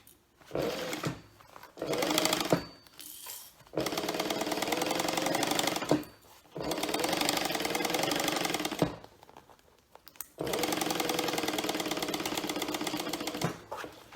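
A sewing machine stitches a bag seam in three long whirring runs, each lasting a few seconds and separated by short pauses, close up and clear.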